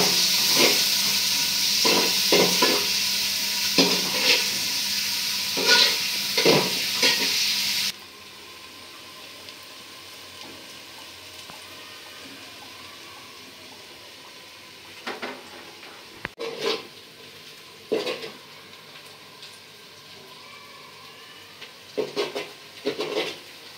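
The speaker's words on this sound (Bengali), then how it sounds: "এখন পেঁয়াজটা তেলের উপরে একটু ভাজা নিব।" Onions fry in hot oil with whole cinnamon, cardamom, cloves and peppercorns, making a loud hissing sizzle with repeated stirring clatters for the first eight seconds. After that it drops to a quiet murmur with scattered scraping stirs.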